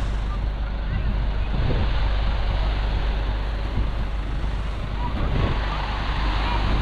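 Steady broadband wash of sea waves with light wind rumbling against the microphone, continuous throughout with no talking.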